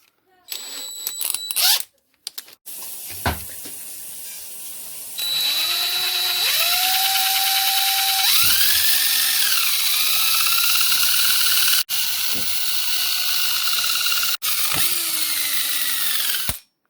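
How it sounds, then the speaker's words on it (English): An electric drill with a 5/32 bit bores a hole through the center of a marked wooden piece, its steady whine running loud and continuous with rising pitch shifts, broken by brief pauses and a few sharp clicks near the start. "Now you're going to want to drill a hole right where you marked it, through the center."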